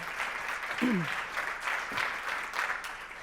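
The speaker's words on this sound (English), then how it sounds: "please join me in a warm round of applause to welcome Anneleen to the stage" Conference audience gives a warm round of applause as a speaker is welcomed to the stage, steady clapping across the room with a short vocal sound near the start mixed in.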